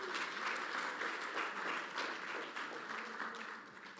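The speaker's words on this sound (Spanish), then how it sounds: "Démosle un aplauso a Dios," A church congregation claps during a Sunday sermon, producing a soft, distant, evenly sustained round of applause with no voices over it.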